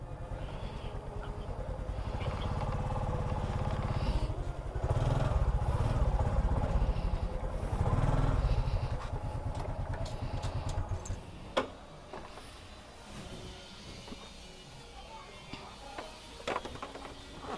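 Motorcycle used for food delivery, its engine running loud and steady up close, then easing down to a quieter idle with ticks and small clatters.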